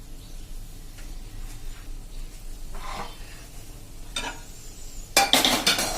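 Gathiya dough is added to hot oil over a medium flame. The sound is soft and low at first, then a loud, bright sizzling burst rises near the end.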